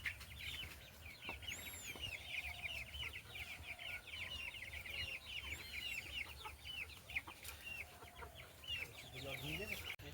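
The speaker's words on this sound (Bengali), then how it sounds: "এখন একটু পরন্ত বিকালে বড় মুরগিগুলোকে ছেড়ে দেবো" Backyard chickens, including the larger hens being let out in late afternoon, cluck and chatter in a busy overlapping chorus at moderate distance, with occasional wing flaps and faint background talk.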